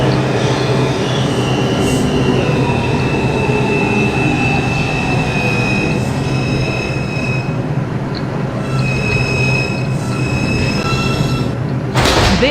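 An NYC subway R142 car on the 5 line between Flatbush Avenue stations rumbles loudly and continuously, with high metallic wheel squeals rising and fading over the roar and a sharp burst near the end.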